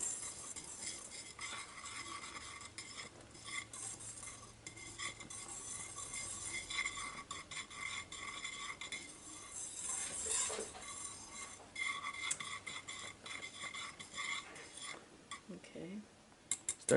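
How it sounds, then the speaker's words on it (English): Honeycomb candy mixture stirred in a pot with a utensil right after baking soda goes in, a steady soft scraping and clinking that runs throughout with faint sizzling and brief voices. "Immediately start stirring."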